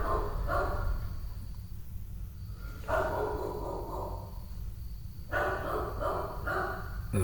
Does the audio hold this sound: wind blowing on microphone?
no